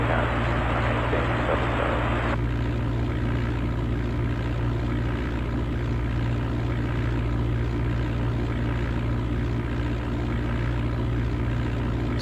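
Aircraft engine drone from the Flight Simulator 95 video game on a flight from Meigs Field to Chicago O'Hare, a loud steady propeller hum with constant low tones, briefly topped by a hiss at the start.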